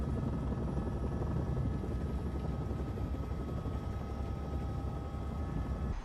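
Steady, droning rotor and engine roar of a helicopter in flight inside a Soviet-era setting near Chernobyl, continuous and fairly loud throughout with no voices.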